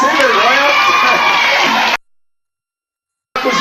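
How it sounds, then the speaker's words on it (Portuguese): A festival crowd cheers and claps for Renan, a dense loud wash of shouting and whoops that cuts off abruptly into silence and then resumes briefly. "Palmas para o Renan, que é o sem vergonha."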